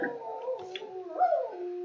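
Several dogs howl together in a drawn-out, wavering chorus, with one howl rising above the rest near the middle; fairly close and moderately loud, with no talk over it.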